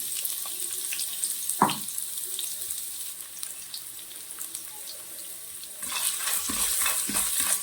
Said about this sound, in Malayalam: എണ്ണ ചൂടായി നമ്മൾ എടുത്തു വെച്ചിരിക്കുന്ന തേങ്ങാക്കൊത്തിട്ട് നമ്മൾ മൂപ്പിക്കാൻ പോവുകയാണ്.